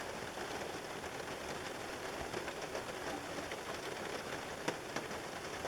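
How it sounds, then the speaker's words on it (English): Steady rain falls outdoors, heard from inside a shelter as an even, close hiss of drops on surfaces with a few sharper taps and no voices. "It's nice in here with it raining out there."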